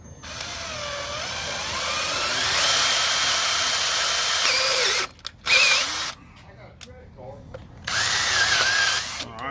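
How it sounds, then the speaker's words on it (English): A power drill with a 1/4 inch bit bores into a melted car battery terminal, whining loudly and steadily with rising pitch, then stopping and restarting in short bursts. "Then you want to take a 1/4 inch drill bit"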